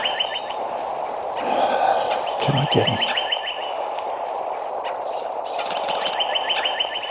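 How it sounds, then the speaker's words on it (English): Small bird chirping in brush outdoors, repeated short high tweets in clusters across the whole stretch, moderately close, with a brief quiet remark from a person partway through. "We got a bird coming here."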